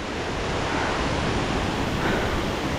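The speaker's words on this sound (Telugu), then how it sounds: "కడమగుండి జలపాతం, కడమగుండి జలపాతం." Loud, steady rushing roar of water at the Kadamagundi (Didupe) waterfall, a dense unbroken wash of noise close by with no voices.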